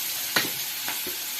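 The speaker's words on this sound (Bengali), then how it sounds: "এবার আমি পেঁয়াজ দিয়ে দিলাম।" Sliced onion frying in hot oil already seasoned with dried chilli, black cumin and bay leaf for a tangra fish curry, a steady close sizzle with a few soft stirring scrapes.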